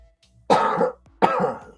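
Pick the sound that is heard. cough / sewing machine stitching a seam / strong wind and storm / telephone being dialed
cough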